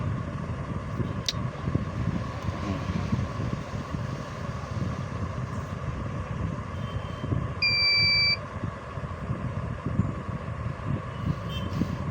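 A fingerprint scanner used with the Smart PDS billing app on a phone gives one short, clear electronic beep partway through, heard over a steady, noisy background hum without any talking.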